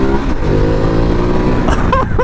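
A 2019 Ducati Multistrada 1260 Pikes Peak Edition motorcycle engine pulling hard under throttle, a loud, close, continuous growl rising in pitch as it revs up.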